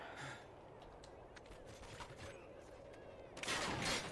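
Gunfire in the Call of Duty Ghosts video game: steady, dense game-combat noise with scattered shots, then a louder burst near the end.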